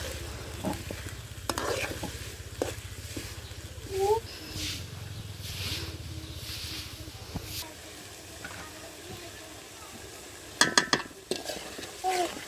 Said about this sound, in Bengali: তারপর এখানে দিয়ে দিব পরিমাণ মতো হলুদ আবার ভালো করে নেড়ে ছেড়ে এগুলোকে মিশিয়ে নিতে হবে